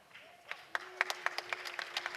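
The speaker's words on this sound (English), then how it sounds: "Billy Chadwick gets a round of applause as he goes down the tunnel." Crowd at a National League Cup football match between Gateshead and Nottingham Forest giving a faint, distant round of applause with scattered individual claps as a player leaves the pitch, a tone sounding behind.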